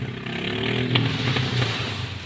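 Small boat engine started and revved out of the water during testing, a steady motor drone with rising revs and clattery bursts throughout.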